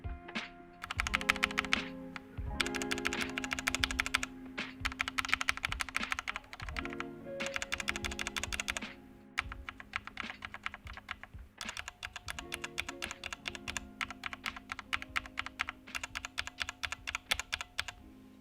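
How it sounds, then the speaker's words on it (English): Typing on a mechanical keyboard with a mix of lubed and unlubed switches: crisp, close keystrokes rattle in quick bursts separated by short pauses, with some stretches of steady, even clicking. "This is how they sound on the keyboard."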